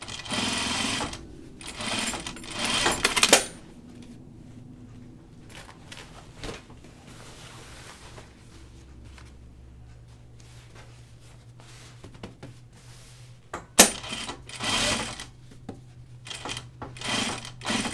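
A sewing machine stitches down the zipper fly on a pair of stretch Ginger jeans, running in two loud bursts at the start and near the end with a quieter stretch between them.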